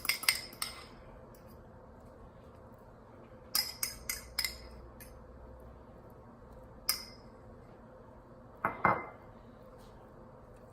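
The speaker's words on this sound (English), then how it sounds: "And then I'm just gonna spread a little bit of yolk on top." A fork clinks and taps against a dish in a few sharp, scattered bursts while egg yolk is spread over keto ham and cheese hot pockets, with quiet room tone between.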